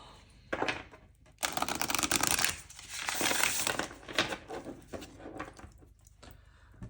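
A deck of tarot cards being shuffled by hand, close and soft papery riffles and snaps in a few bursts with quieter gaps between, no talking.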